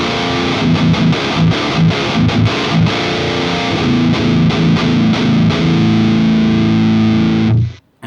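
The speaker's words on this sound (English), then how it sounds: "this is what it sounds like through the Powerball module" An electric guitar is played loud and heavily distorted with a boost through a NUX B-8 wireless system's Powerball module. It starts with fast choppy riffing, settles into sustained chords and then cuts off abruptly near the end.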